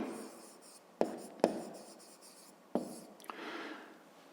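A pen writes a math solution on paper in quiet, scratchy strokes, with a few sharp taps as it touches down and a softer rubbing stroke at the end.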